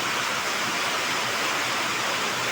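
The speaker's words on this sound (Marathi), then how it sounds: "रस्त्यावर आपण पाहू शकतो पाणी या ठिकाणी वाहत असल्याचे दिसत आहे" Steady, broad rushing of rainwater flowing continuously along a road during an unseasonal storm, with no pauses.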